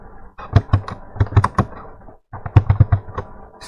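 A computer keyboard clatters close up in quick bursts of keystrokes, two clusters separated by a brief pause, loud and clear with no talking.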